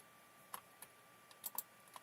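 A handful of soft, close clicks from a computer keyboard come in an irregular rhythm during AutoCAD work, faint and quiet with nothing else heard.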